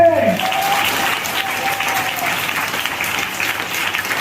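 A church congregation at a Sunday service claps loudly and steadily throughout, a dense wash of applause with a voice calling out over it at the start.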